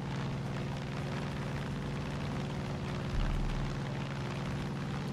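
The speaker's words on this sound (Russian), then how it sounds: "самолет очень медленно летает" A slow propeller airplane drones steadily in Far Cry 5, a continuous low engine hum with a brief swell of rumble partway through, no talk over it.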